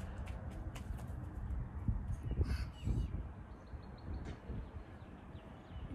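Crows caw outdoors, several harsh calls at moderate distance over a steady low breeze-like background, with no one speaking.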